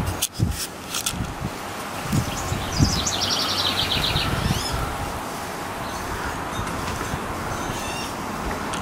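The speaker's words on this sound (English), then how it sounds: "Hear the birds." Birds chirp and trill in short bursts outdoors on a warm, breezy spring day, fairly faint against a rustling wind background.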